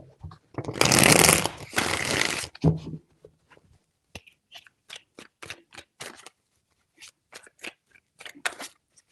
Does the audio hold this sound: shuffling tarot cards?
yes